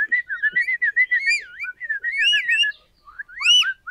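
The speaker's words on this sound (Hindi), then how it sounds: "हाँ जी सीटी सीख गई है मेरी बली।" A person whistles a lively, warbling tune up close, with rapid slides and trills in quick bursts, a short pause, then a final rising phrase; no talking.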